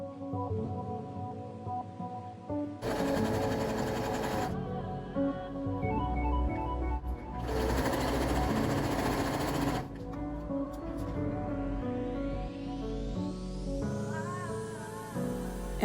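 A sewing machine with a normal presser foot stitching a pinned seam to close the back of a top made from a thrifted dress. Steady whirring runs in bursts with short pauses and is followed by a rising mechanical whine, close and continuous.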